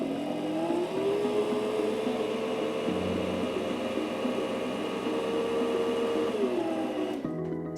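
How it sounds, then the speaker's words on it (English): Singer C5205 sewing machine running steadily to wind the bobbin, a continuous loud motor whir with a rising then falling pitch, stopping abruptly near the end. "Step on the foot control to begin winding the bobbin"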